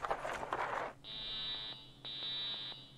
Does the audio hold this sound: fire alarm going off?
yes